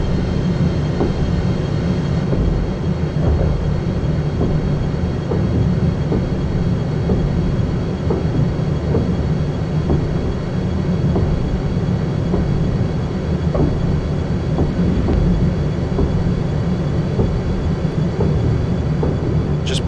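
An Acela Express train in Microsoft Train Simulator runs steadily between Washington DC and Wilmington DE, a constant loud rolling rumble with faint rhythmic clicks of wheels over rail joints and no voices.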